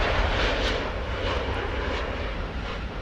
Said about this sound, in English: And the EasyJet going into the airport.